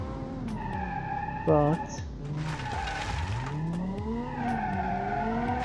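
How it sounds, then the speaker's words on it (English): Tires skidding and squealing on a modified 300 HP lawnmower power sliding in BeamNG.Drive, the engine droning steadily underneath, with a sharp squeal burst midway while someone talks over it. "yes, it can power slide, it can drift a little bit"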